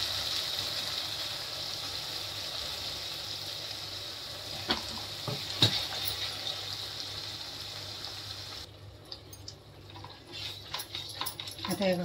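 Ground masala hits hot oil in a frying pan alongside black cardamom, cloves and peppercorns, giving a steady close sizzle with stirring clinks, then thinning out near the end.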